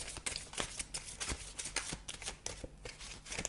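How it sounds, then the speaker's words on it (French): Playing cards riffled and shuffled up close during a French tarot-style card reading, a dense run of quick papery flutters and snaps filling the whole stretch with no voices. "je vais vous tirer une dernière carte"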